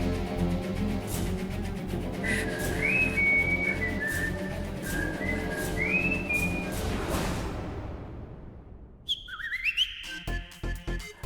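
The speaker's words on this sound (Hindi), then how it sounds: "जहां हैंडसम लड़का देखा नहीं सीटी मारनी शुरू कर दी" A person whistles a short, wavering melodic phrase over a background music bed, followed after a brief drop in sound by a quick rising whistle.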